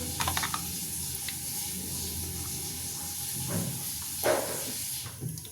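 Chicken pieces hiss and sizzle steadily in a pan over a lit gas flame, with a few light clinks and stirring bursts; no talking.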